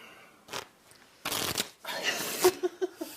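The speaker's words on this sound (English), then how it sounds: "Let's shuffle." A deck of playing cards being shuffled during a close-up card magic routine, with a couple of short riffling bursts separated by pauses, followed by a few soft taps, fairly quiet and near.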